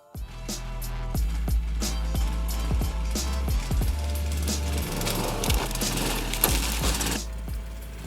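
A double-tracked motordog crawler drives over a large log on dirt, its motor droning steadily under repeated knocks and thumps from the tracks and frame striking wood.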